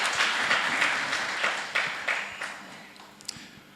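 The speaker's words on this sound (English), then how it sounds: "let's just clap hands for them" An audience at an International Television Day forum claps for industry figures, a dense wash of many hands that stays steady for a few seconds and then gradually thins out and fades.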